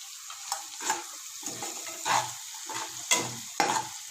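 Quiet stir-frying of chopped beans and vegetables for noodles in a pan: soft sizzling punctuated by repeated scraping strokes of a spatula at irregular intervals, close up, with no voices.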